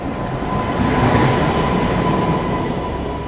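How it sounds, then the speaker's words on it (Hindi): An oncoming train rumbles past near Govindpuri railway station, a loud, continuous roar of wheels on track with a steady high whine over it, building slightly in the middle and holding for the whole stretch. "सामने से एक ट्रेन भी आ रही है।"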